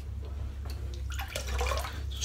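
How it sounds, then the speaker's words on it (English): Water is squeezed out of a wet shaving brush, producing soft, close squelching and dripping splashes that cluster in the second half, quiet against a low room hum. "Squeezed out most of the water."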